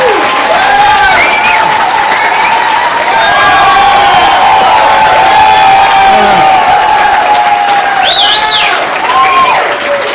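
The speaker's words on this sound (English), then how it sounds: "that applause tells me something" A town-hall television audience in Dayton, Ohio gives sustained loud applause mixed with cheers and whoops, a dense continuous roar that holds steady for the whole stretch with voices calling out over it.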